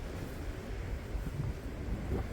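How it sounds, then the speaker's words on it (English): Strong gusting wind buffets the microphone beside a narrowboat on a very windy day, producing a steady low rumble with no talking. "A very windy day."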